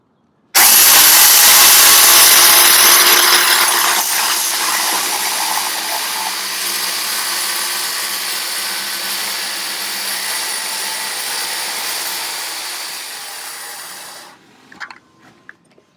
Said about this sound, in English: being that I do have the right depth for this saw, it may not saw all the way through